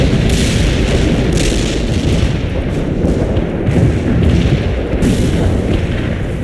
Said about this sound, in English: We can deploy and lay down a heavy barrage. Artillery strike on the way.